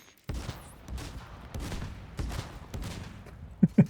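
Rapid video game gunfire crackles in a series of sharp, close shots after a brief quiet start, bursts spaced unevenly across a few seconds with louder reports near the end.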